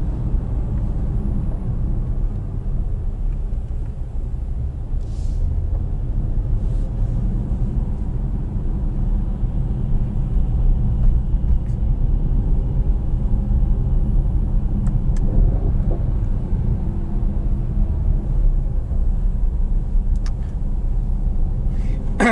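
A Mercedes E63S 4MATIC Plus cruises on a highway under its semi-autonomous driving system, giving a steady low rumble of road and engine noise from inside the cabin.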